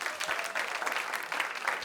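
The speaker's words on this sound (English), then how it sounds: "Yeah, give him a round of applause again." Brief burst of audience applause at a live science storytelling show, dense steady clapping throughout the short moment without any talk.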